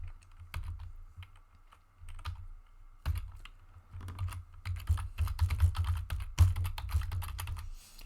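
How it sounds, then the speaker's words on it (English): Keys clatter on a computer keyboard while an email address is typed into a PowerPoint slide, with irregular bursts of close, moderately loud tapping and brief pauses between runs. "type your email address"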